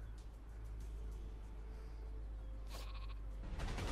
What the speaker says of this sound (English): Go on, sheep!